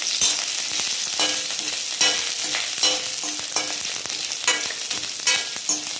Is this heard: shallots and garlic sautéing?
yes